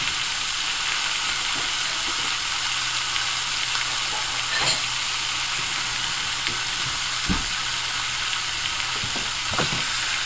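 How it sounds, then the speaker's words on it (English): Steak fries in a hot pan with a steady, close sizzle and bubbling hiss, with scattered pops and crackles throughout and no one talking. "My steaks is bubbling"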